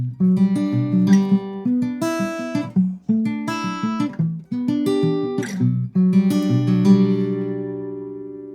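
An acoustic guitar is fingerpicked through a repeating chord pattern, with individual notes plucked in steady rhythm and ringing together, no voices.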